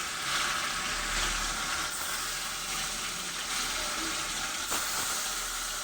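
Paneer coated in Kashmiri chili powder and turmeric fries gently in oil, giving a steady hissing sizzle close by with a faint low hum underneath.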